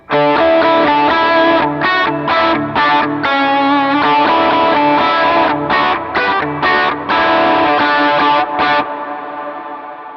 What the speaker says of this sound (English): you can hear the initial attack of those notes, but then you kind of hear the reverb